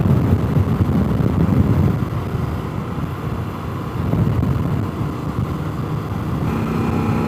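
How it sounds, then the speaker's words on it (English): Steady wind buffets the microphone in a low, rough roar while riding a motorcycle across a bridge, gusting slightly stronger at times, with no voices. "Ooh, windy bridge."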